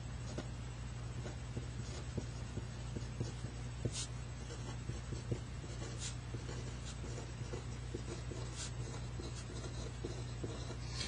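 Pen or pencil scratching out short notes on paper, faint light strokes heard close under a loud steady hum and hiss, with no talk.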